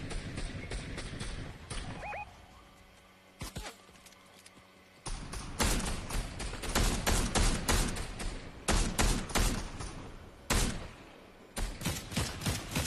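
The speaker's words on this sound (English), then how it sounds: "Gunshot. Ooh, somebody shooting at me." Bursts of gunfire in an online shooter video game crack repeatedly at close range, loud and clipped, with players talking over the shots.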